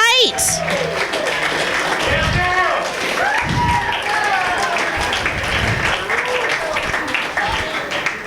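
A comedy club audience at a comedy competition applauds the winners, loud sustained clapping mixed with cheering voices and a few thumps.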